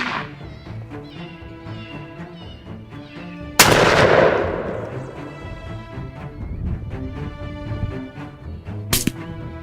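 A single loud rifle gunshot goes off while hunting bobcat, its sharp crack decaying over a second or two under background music, followed later by a second brief sharp hit.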